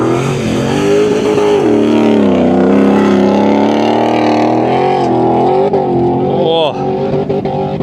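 Rally cars on a motorkhana stage blast past one after another, engines revving hard and rising through the gears, loud and close, with a commentator talking continuously over the racket.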